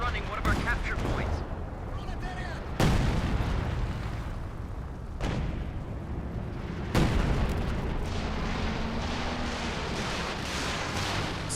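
Heavy booms and rumbling blasts of an artillery barrage in Company of Heroes 2 roll on continuously, with several sharp impacts standing out above a dense battle din, while a voice talks beneath.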